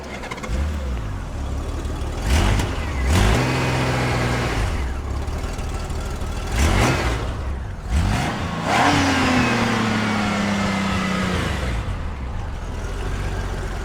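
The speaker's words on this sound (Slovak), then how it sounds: "Tak si poďme tento krásny 6-válec naštartovať." Honda Goldwing six-cylinder motorcycle, over 30 years old, cranks and fires, then revs repeatedly with rising and falling engine pitch over a steady idle, close and loud.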